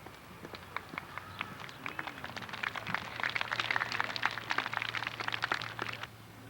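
A horse brought up into a canter during a medieval joust demonstration at a school assembly, with rapid, uneven hoof thuds that grow busier and louder midway, over a low steady hum.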